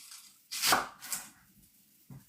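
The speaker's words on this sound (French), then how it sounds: "Je vais couper un petit peu d'oignon" A knife cutting onion, one sharp chop followed by a few fainter, softer cuts, close and quiet with no voices.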